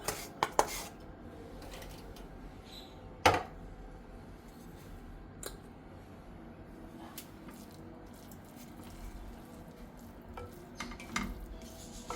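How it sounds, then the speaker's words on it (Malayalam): Fried boiled eggs being stirred into masala in a pan for boiled egg rice, heard as quiet utensil clinks and scrapes over a low simmer, with a couple of sharper knocks near the start. "ഇതിലേക്ക് നമുക്ക് മുട്ട പൊരിച്ച് വെച്ചത് അങ്ങോട്ട് ഇട്ട് കൊടുക്കാം. ഈ മസാല ഇതിൽ ചേർത്ത് കൊടുക്കുക."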